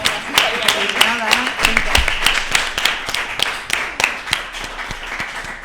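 Applause from a small audience at a live talk event, steady crisp clapping lasting several seconds while voices talk over it.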